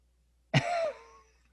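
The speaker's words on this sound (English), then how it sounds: "He coughed earlier." A single close, raspy cough from a man in a quiet room, followed by a short throat sound a moment later.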